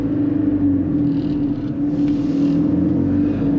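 A worn-sounding Fiat 500 TwinAir with its small two-cylinder engine drones loudly and steadily from inside the car, a low rough hum with little change in pitch.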